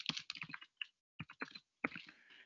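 Keys on a computer keyboard are tapped in short bursts and separate clicks with brief pauses between them, quiet and close, with no voices.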